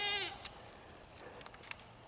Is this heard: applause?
no